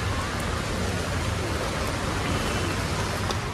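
Heavy rain pours at a bus station in Vaibhavwadi, Konkan, as a steady, dense, loud hiss that fills the whole moment without a break and has no voices over it.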